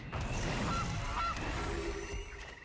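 A cartoonish goose honk sounds from the Goose card in MTG Arena, two short nasal honks over soft game background music, with no talking.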